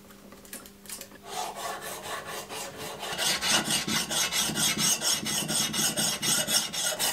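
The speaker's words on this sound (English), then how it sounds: "I'm running the coarse side of the stone over this entire ground surface a little bit" The coarse side of a diamond sharpening stone rasps back and forth over the ground surface of a Rinaldi axe head in quick, rhythmic strokes that grow louder and more regular as they continue.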